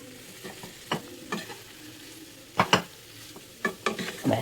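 A sugary mixture being stirred in a frying pan: a steady soft sizzle broken by repeated scraping strokes of a utensil against the pan, growing busier toward the end, close by with no talk.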